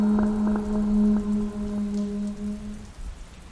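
Steady rain falls during a storm in a spooky village story, a continuous wash of drops under a low droning hum that fades slightly toward the end.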